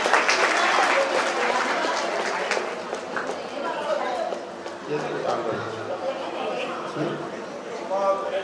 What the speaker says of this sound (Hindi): जोरदार तालियों से भाई साहब का स्वागत करें।